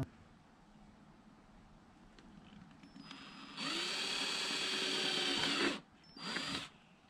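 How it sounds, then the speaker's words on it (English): A power drill whirs loudly through wood for about two seconds, stops, then drills again briefly; quiet room tone before it starts. "Lift this up so when I drill through, I don't drill into my table."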